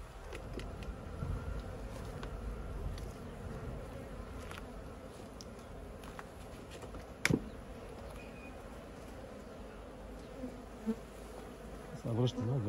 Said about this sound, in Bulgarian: след 5 часа вече има повече пчели в кошерите. И е нормално да са малко по-неспокойни